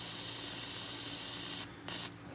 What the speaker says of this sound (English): we'll spray them with some penetrating fluid